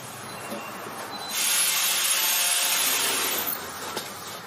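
Rusty metal is scrubbed clean for welding with a grinder and a shirt, giving a raspy, abrasive rubbing burst of about two seconds. It sits at a moderate level between quieter scraping, with no talking.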